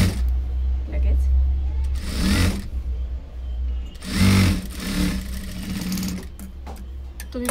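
A sewing machine double-stitches a katori blouse at half-inch margin in bursts of steady whirring, starting and stopping, with someone talking over and between the runs.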